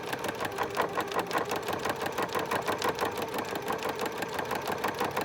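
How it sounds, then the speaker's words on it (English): A sewing machine stitches a zipper onto a bag or purse, its needle pounding in a fast, steady rhythm at close range with no talking. "making sure that we are sewing only the zipper"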